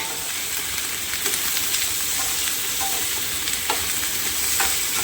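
Onion and spices fry lightly in a pan for a butter masala paneer dish, giving a steady close sizzle with occasional soft stirring scrapes and clicks and no talking.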